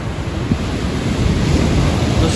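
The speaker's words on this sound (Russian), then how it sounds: "Смотрите, какая волна." Storm surf pounding the shore at Sochi, a steady loud roar of breaking ocean waves with wind buffeting the microphone throughout.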